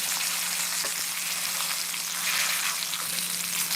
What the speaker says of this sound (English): And this will ensure we get a good sear.